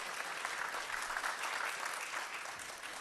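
An audience at the Fragility Forum 2024 opening applauds, a dense steady wash of many hands clapping across the whole stretch, even and moderately loud with no voices on top.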